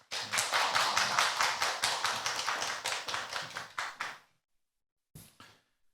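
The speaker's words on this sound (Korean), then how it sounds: "교수님을 따뜻한 박수로 환영해 주시면 감사하겠습니다." Audience applause greets a keynote speaker at a university innovation forum, a dense run of hand claps lasting about four seconds before fading out, followed by a short final burst of claps.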